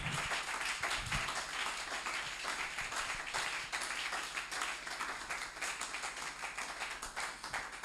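A church congregation applauding, a steady dense wash of many hands clapping that carries evenly throughout, moderately distant and fairly faint, with no talking.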